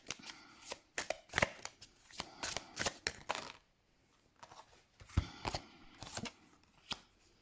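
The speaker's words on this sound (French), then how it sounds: "Allez, on va aller chercher 3 cartes." Tarot cards are riffled and shuffled in close bursts of papery slaps and flutters, pausing for a moment before more shuffling and the soft snaps of cards being drawn.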